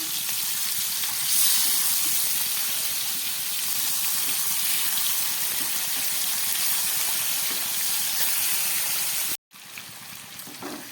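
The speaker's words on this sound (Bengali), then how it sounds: "বাকি তেলের মধ্যে বাকি বাদগুলোকে আবার ভেজে নিচ্ছি" The rest of a batch of soft pabda fish fries in leftover oil, a constant loud hissing sizzle that carries on evenly before cutting out abruptly near the end, close by with no voices.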